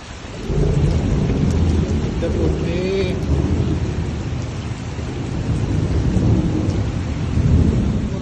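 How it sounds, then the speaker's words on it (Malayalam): Heavy rain pours steadily in Dammam, Saudi Arabia, with low rolling thunder rumbling underneath, loud and close, while a voice briefly exclaims. "ഒരു രക്ഷയില്ലാത്ത മഴ"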